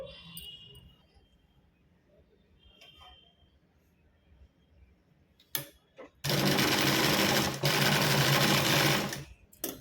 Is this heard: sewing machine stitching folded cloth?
yes